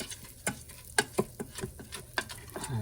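Arborio rice sautéing for risotto in an Instant Pot, with quiet, irregular clicks and scrapes of stirring over a soft, low sizzle.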